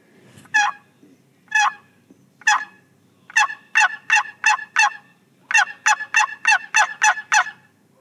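Quaker Boy turkey call imitating a hen's yelp: three spaced single yelps, then two rapid runs of four and six sharp, strident notes, close and loud over faint background noise.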